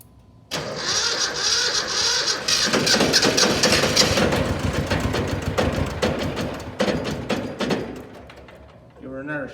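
A Yanmar 155D diesel tractor that has sat unused for a while cranks and starts, catching after a short silence and running roughly at a loud, uneven idle with sputters and dips, near and alone.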